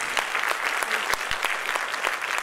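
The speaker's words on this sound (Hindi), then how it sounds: "चलो बेटा, ये दोनों के लिए एडवांस में ताली होनी चाहिए" Students in a classroom clap together in steady, dense applause, close and sustained across the whole moment with no voices standing out.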